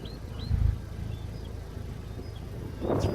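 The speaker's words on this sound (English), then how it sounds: "Take a walk around the back so you can hear what the exhaust net sounds like." A 2012 Buick Regal GS idles with a quiet, low exhaust rumble close by, a soft steady drone with faint birdsong in the background.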